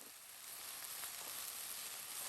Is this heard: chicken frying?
yes